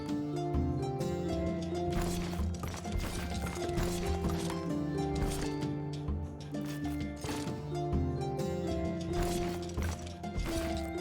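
Horse archers move across the map in the strategy game Ozymandias, with steady clip-clopping hooves and clinks layered over continuous game music.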